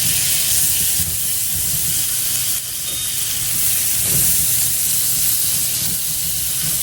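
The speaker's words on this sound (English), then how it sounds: "now we're going to go in with a pat of butter, a couple of tablespoons." A pat of butter sizzling in a pan of tender potatoes, onions and chicken, a loud, continuous steamy hiss with a brief dip midway and faint low knocks from the pan.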